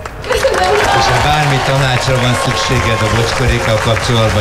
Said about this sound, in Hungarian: Kérjük egy nagy tapsot Enikőnek.